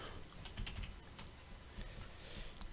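Computer keyboard typing, soft and fairly close, with quick irregular key clicks and brief pauses against steady room noise.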